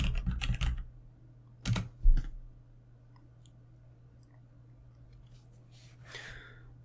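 Quick bursts of key clicks on a computer keyboard, a rapid cluster at the start and two sharper taps shortly after, then a quiet stretch with a faint soft noise near the end. The typing is close and clear, with no talking.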